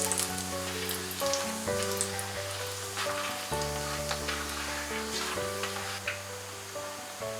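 Half a small spoon of cumin and two dried red chillies sizzle in melted butter for palak paneer, a steady crackling hiss under gentle background music, with no talking.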